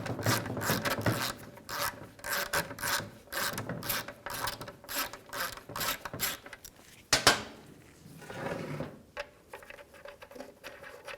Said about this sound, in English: Now take these studs out. You can use an E8 socket. Loosen these up and transfer them over.